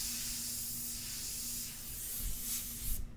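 An airbrush sprays India ink in a test burst, a steady close airy hiss with a low hum beneath that swells slightly near the end, then cuts off sharply.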